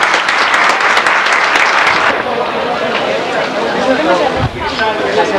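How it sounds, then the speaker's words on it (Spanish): Loud, warm applause from a congregation at a religious ceremony honoring the Virgin, close and dense, with chatter and crowd murmur mixed in as the clapping thins toward the end. "si todos podemos darle un caluroso aplauso a la Virgen"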